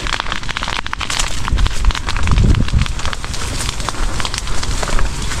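Fire burning through calamansi trees beside a property, a steady broadband roar with scattered crackles and pops and a louder surge midway, heard alone without speech.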